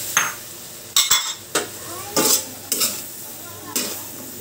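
String beans and eggplant sautéing in a pan with margarine, with a series of sharp spatula scrapes and clinks against the pan roughly every half second over a soft sizzle.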